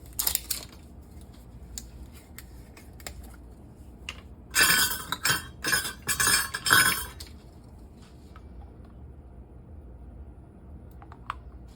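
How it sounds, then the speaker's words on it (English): A new corn syrup bottle is unsealed in a home kitchen, giving a quick burst of sharp crackling, clicking and rustling noises of plastic seal and cap handling, close and fairly loud, framed by scattered small clicks and taps. "I gotta open this. It's a new bottle."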